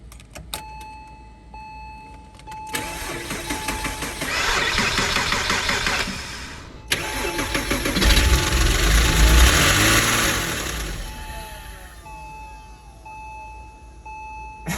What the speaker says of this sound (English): I'm gonna put this on engine start.